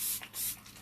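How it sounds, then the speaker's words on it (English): L'Oreal Infallible Magic Setting Powder spray, a nearly empty can, giving two quick close hissing bursts of spray alone. "This was the L'Oreal Infallible Magic Setting Powder spray."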